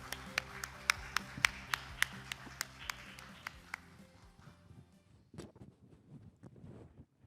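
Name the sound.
audience applause welcoming moderator and panelists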